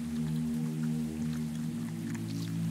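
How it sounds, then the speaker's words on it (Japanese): Heavy rain falls steadily on a night city street in a Japanese horror escape game, a dense continuous hiss over a low droning hum, with no voices. "これ雨だね、めちゃめちゃ。 めちゃめちゃ雨だわ。"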